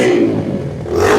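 A used motorcycle fitted with a loud aftermarket exhaust revs close by, a brief rising roar that dips in the middle and swells again, rough and throaty.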